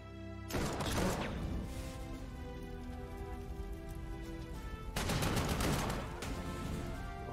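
Artillery bombardment in the WWII strategy game Panzer Corps 2, set in Belgium: a dense, rumbling barrage of rapid crackling impacts that starts abruptly, runs continuously, and swells again near the end alongside layered game music.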